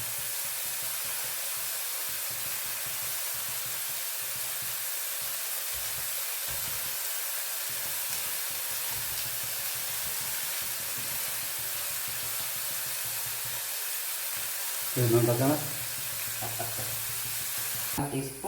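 Garlic, ginger and curry leaves sizzle in a hot pan with a steady, close hiss, broken late by a few brief clatters of stirring.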